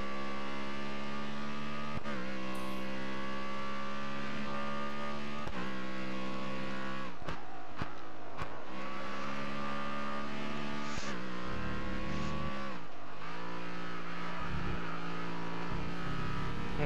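A race car in the video game Grid Autosport, driven backwards around the Hockenheimring, holds a steady high-pitched engine drone at speed, with revs dipping and climbing at gear shifts and corners, loud and close throughout.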